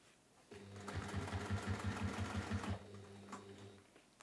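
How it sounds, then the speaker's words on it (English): Sewing machine stitching binding onto a see-through bag, a steady fast run of needle strokes for about two seconds between softer motor hum at start and end, close and alone. "So you will sew up to that line and then turn it"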